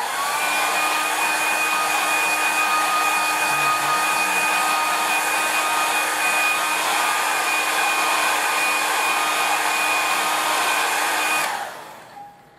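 A hair dryer blows steadily and loudly on wet watercolour paint for about eleven seconds with a constant whirring hum, then switches off and winds down.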